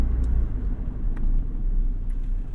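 A 1991 Honda Civic Si EF hatchback on the road, a steady low engine and tire rumble heard from inside the cabin, constant and fairly loud with a faint tick now and then.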